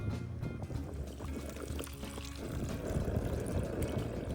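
Milk poured into a fish masala frying in a pan, a close gurgling pour and splash over a crackling sizzle that settles into steady frying.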